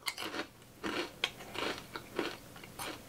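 Flamin' Hot Cheetos crunch between the teeth at close range, a run of crisp bites and chewing bursts in an irregular rhythm, with no speech.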